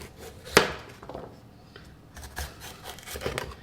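A knife slicing through peppers on a cutting board while preparing Jamaican jerk pepper steak, with one sharp cut near the start and then a run of softer, irregular chopping and scraping strokes close by.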